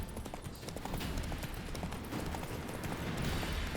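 Hooves of Geralt's horse Roach clip-clopping at a steady trot in The Witcher 3: Wild Hunt, continuous and fairly close over the game's background sound.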